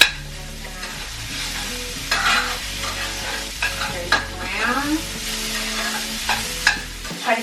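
A utensil stirs and scrapes through potatoes sizzling in a pan as seasoning and crushed red pepper are worked in for a plant-based breakfast burrito bowl, with close, repeated scraping strokes over a steady frying hiss.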